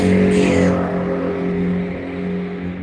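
Several boy racers' cars accelerate past along a village road in Hadlow, Kent, a loud rush of engine noise that peaks early and then eases off as the traffic moves on, with no talking.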